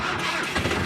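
A diesel truck engine being jump-started with a GT4000 jump starter, a brief, loud, rough churning rumble close by as it catches, with no voices.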